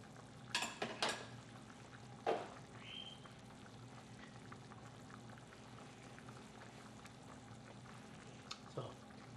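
Tomato puree and paste are slowly stirred into a Bolognese ragu in a pot, giving a soft bubbling simmer with a few brief scraping and clinking spoon sounds near the start and end, quiet overall.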